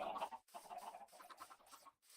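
A Minecraft chicken clucks repeatedly in short, bright bursts. The clucks are close and fairly loud, with no talking over them.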